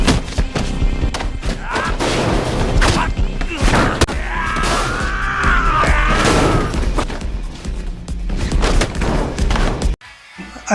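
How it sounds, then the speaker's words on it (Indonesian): Gunfire rings out during a film fight scene, with repeated loud thuds and sharp shots mixed in with crashes, impacts and tense music, then a short drop toward silence near the end. "Komandan Cha tidak peduli menembak anak buahnya sampai tewas karena menjadi perisai bagi Chulyung"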